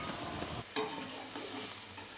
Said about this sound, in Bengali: ঝোলটা এবার ফুটে এসেছে